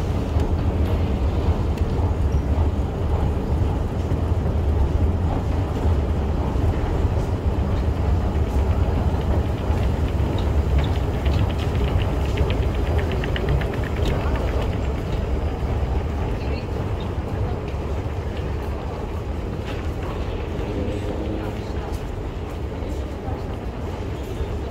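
Singapore MRT train at a station near Bugis: a continuous low rumble of the train and platform noise, steady and moderately loud for the whole stretch.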